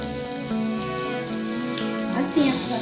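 Garlic dropped into frying oil beside fried potatoes, a steady close hiss that flares into a brighter sizzle near the end, with a faint hum underneath.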